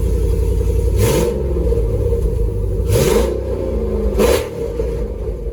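A 2005 Dodge Magnum with a swapped-in 6.1 SRT8 Hemi V8 revs loudly through its exhaust, three sharp throttle blips rising over a heavy, rumbling idle, close up and with no talking.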